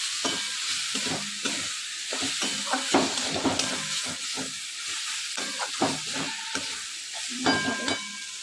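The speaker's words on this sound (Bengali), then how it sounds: "হলুদ আর নুন দিলাম, লঙ্কা গুঁড়ো। এটাকে ভালো করে কষাবো।" Turmeric, salt and chili powder being sautéed in a pan for a dried-fish dish, giving a steady close sizzle with repeated scraping stirs throughout and no talking.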